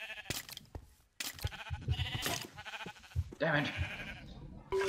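Sheep bleat in the video game Minecraft, several short calls scattered through the clip, with a voice briefly exclaiming over them.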